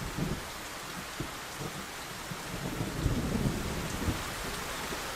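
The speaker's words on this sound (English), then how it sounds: "Thunder rumbles in the distance, and rain begins to fall from the clouds" Continuous heavy rain with rolling thunder rumbles in the video game World End Syndrome, a dense steady downpour with deeper low booms surfacing throughout and no voices.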